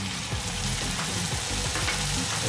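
Masala fries and is stirred with golden-brown onions for pahadi mutton, producing a loud, close, continuous sizzle with soft scraping and stirring noises running through it.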